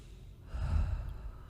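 A single slow, deep breath drawn in through the nose, close and soft, rising to a fuller rush halfway through before easing off.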